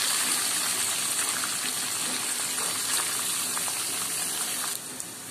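Onions frying in a pan with green chillies and chana dal for rava semiya upma, a steady close hiss of sizzling oil that drops suddenly near the end.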